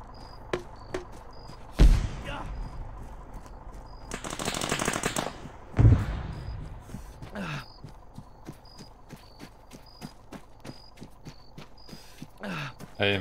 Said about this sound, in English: Stop shooting people.